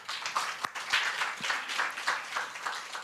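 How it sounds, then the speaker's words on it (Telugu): A church congregation clapping along in a loose rhythm, quiet and somewhat distant, steady hand claps filling the short stretch. "చప్పట్లు కొట్టండి"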